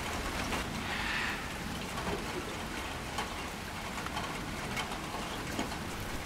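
Rain falls steadily outdoors where a silverback gorilla and his sons are, a continuous soft hiss of drops with occasional faint bird calls mixed in.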